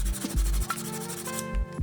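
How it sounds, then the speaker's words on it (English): Rhythmic back-and-forth rubbing as a small wooden orc spike is sanded by hand, close and fairly steady, with no talking. "Sanding."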